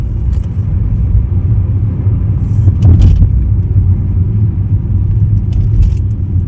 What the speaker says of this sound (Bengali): আমরা গাড়িতে যাচ্ছি